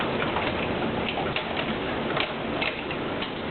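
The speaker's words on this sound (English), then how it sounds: "listen to these things pelting the window. I think it's hailing outside." Summer hail in South Florida pelts a window in a steady, dense patter of small pebble-like hits, continuous and fairly loud, with no one speaking.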